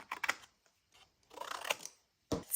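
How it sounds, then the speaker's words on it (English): Small scissors snip through paper in short, close bursts, a quick pair of cuts, a pause, then a longer run of crisp snipping and a final sharp cut. "I like cutting the bigger shape with the bigger scissors"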